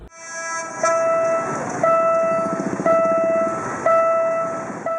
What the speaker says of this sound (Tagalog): tuwing dadaan ang train, mauga, maingay